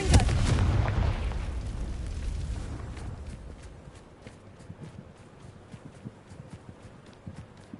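A Confringo spell explosion in Hogwarts Legacy, a loud fiery boom that rumbles for a few seconds and fades into a quieter tail of scattered small pops and crackles, with no voices.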